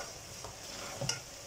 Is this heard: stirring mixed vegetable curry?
yes